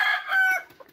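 A game rooster crows once, close and loud, a short strained call that fades out in about a second.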